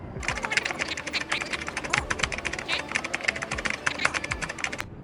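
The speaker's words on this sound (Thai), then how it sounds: "อ่ะเดี๋ยวมาพิมพ์ดีกว่า" Quick, light key clicks from typing on the keyboard of a Huawei MatePad 11.5 LTE tablet, close up, in an irregular rhythm with brief pauses.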